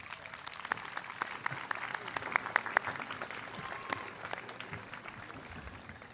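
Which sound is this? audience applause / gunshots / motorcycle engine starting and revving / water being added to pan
audience applause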